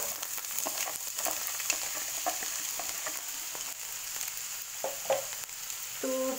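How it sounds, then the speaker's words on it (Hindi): Chopped onions fry in mustard oil in a pan, a soft steady sizzle with scattered stirring clinks and scrapes, cooked for a Jammu-style rajma dish. "मैं सरसों के तेल में बना रही हूँ। तो इसमें हम डालेंगे प्याज"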